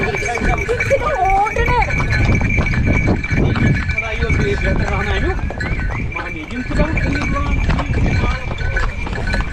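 Horse hooves clip-clop along during pony rides in Pahalgam, under constant nearby chatter and crowd noise, with busy background bustle.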